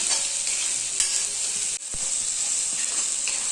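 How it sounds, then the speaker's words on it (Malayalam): Onion and crushed ginger sauté in a pan, sizzling and frying steadily close up with occasional stirring scrapes, alone without talk. "ഇതും കൂടിയിട്ട് നന്നായിട്ടൊന്ന് വഴറ്റിയെടുക്കണം."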